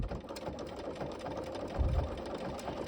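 A sewing machine stitching a blanket stitch appliqué runs steadily with a fast, even mechanical hum and needle rattle, close but fairly quiet.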